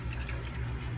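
Citrus juice mixture of orange and grapefruit drains and trickles briefly, a soft, close liquid pour with light dripping.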